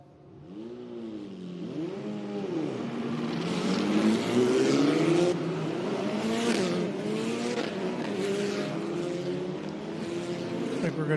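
Race car engines rev at Canadian Tire Motorsport Park during an FR Americas race, rising and falling pitch sweeps from several cars growing louder and sustained, with a commentator talking over them.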